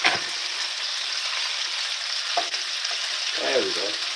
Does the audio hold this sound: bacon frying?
yes